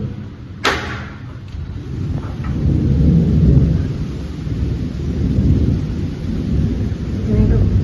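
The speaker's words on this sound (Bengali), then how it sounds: "ভালো মেঘ যাচ্ছে, বৃষ্টি হচ্ছে, একটু ঠান্ডা হলো।" Heavy rain pours steadily with a sharp, close crack of thunder near the start followed by a low rumbling roll under the continuous downpour.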